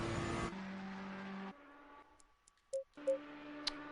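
Ferrari GT3 race car in a racing video game at Spa, engine note holding steady then dropping off, with gear-shift-like steps and brief ticks, loud at first and fading to quieter tones.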